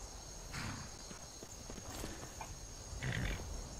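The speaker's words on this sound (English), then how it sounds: "Now Fandel should mount up on his horse." Horse hooves clip-clop in Skyrim Special Edition, a few moderately close steps at an uneven walking pace with no talk.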